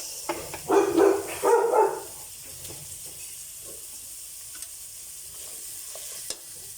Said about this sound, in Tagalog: Magigisa na po tayo ng ating sinugan. Bawang, sibuyas.